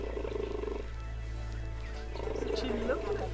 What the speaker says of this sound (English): So you purr instead of roar, that's much better.